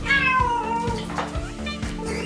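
A person imitating a cat's meow over thumping club music in a comedy sketch set in a cat disco, with a drawn-out, falling meow-like cry near the start and softer cries later, all over a steady beat.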